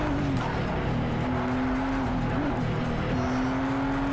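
Modified Toyota Supra race car in Project Cars 3, converted to about 995 horsepower, with a loud, close engine note that rises and dips between shifts, with tire squeal under braking and cornering.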